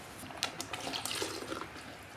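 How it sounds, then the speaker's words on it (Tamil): Water is poured into a coconut masala kurma as it cooks, a steady close splashing and trickling sound with small bursts, lasting about two seconds without talk. "தேவையான அளவுக்கு தண்ணி ஊற்றிக்கலாம்."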